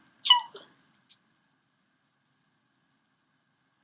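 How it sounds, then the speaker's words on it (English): A single short, sharp sneeze bursts out near the start, followed by a faint click and then near silence. "That was my real sneeze."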